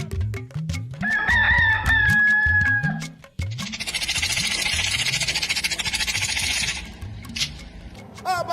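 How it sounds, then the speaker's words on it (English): A rooster crows loudly and close by at dawn in Ile-Ife, southwest Nigeria, with a long drawn-out call over clucking and other fowl noise, followed by a burst of broad hiss. "Every morning as the cock crows"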